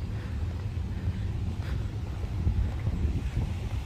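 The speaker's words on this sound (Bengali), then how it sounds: "বাতাস মাশাআল্লাহ।" Wind blows in steady low buffeting gusts across the microphone at a lakeside metro park in Michigan, with faint rustling and no voices.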